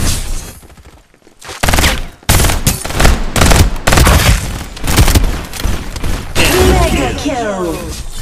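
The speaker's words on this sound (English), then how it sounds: "Open fire! Time for some artillery!" Gunfire and artillery from the battle royale game Farlight 84 crash in loud and dense, with rapid volleys and heavy booms rolling one after another. Game voice lines sound at moments.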